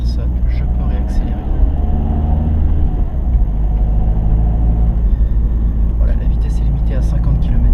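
A car drives and accelerates on a road during a driving lesson near Gex, a steady loud low engine and road rumble throughout, with a person talking over it.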